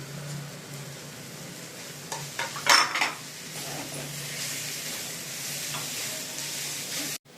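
Spices and poppy seeds sizzle and fry in a pan for a chicken chops dish, with a utensil stirring and scraping against the metal in a brief cluster of clinks near the middle over a steady frying hiss.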